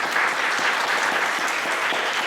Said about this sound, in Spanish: Por favor, demos un aplauso de bienvenida a la maestra Fátima Hernández González.